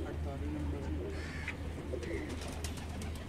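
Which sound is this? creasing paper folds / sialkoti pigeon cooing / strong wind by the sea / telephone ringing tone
sialkoti pigeon cooing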